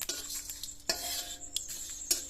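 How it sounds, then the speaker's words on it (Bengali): Spices dry-roasting in a pan over a low flame, stirred with a utensil that scrapes and clinks against the metal in several distinct strokes over a soft, steady background hiss. "মশলাটা লো ফ্লেমে 2-3 মিনিট ভেজে নেব"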